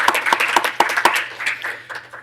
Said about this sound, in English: I hope that you all can give them another round of applause and appreciation